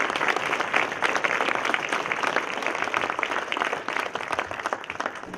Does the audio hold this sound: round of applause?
yes